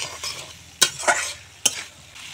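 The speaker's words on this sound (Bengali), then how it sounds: "আলু দিয়ে মশলার সঙ্গে ভালো করে মিশিয়ে নেব।" Spatula stirring fried potatoes into a cooked-down spice masala in a pan for a Chandana dried-fish potato and eggplant curry, with a soft sizzle and three sharp scraping knocks against the pan.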